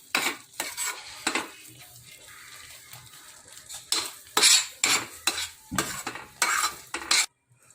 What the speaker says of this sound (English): we have to keep on stirring for 10 to 15 minutes till the dough leaves the sides of the pan